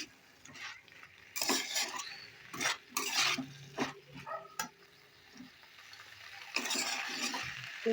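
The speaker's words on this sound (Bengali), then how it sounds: "ভালো করে নাড়াচাড়া করতে হবে শুধু কখনোটা খুব ভালোভাবে কষিয়ে নিতে হবে" A vegetable curry is stirred and fried in a pan: irregular scraping clinks of a spoon against metal, with a soft sizzle beneath, close and wordless.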